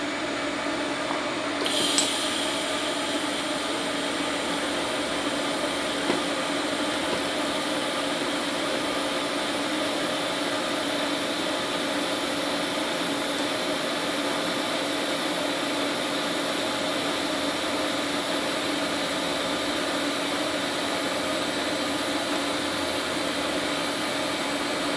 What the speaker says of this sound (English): I'm just going to go ahead and weld out either side now.